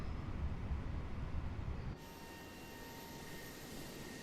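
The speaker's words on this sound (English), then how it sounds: "taxi in on engine 1, and we'll turn off our taxi light" An Airbus A320 taxiing in on one engine at Mangalore airport in Microsoft Flight Simulator 2020: a steady jet engine rumble and whine that drops abruptly to a quieter hum with faint high tones.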